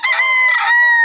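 A rooster crows loudly and close by, one sustained, strained call holding its pitch for about a second.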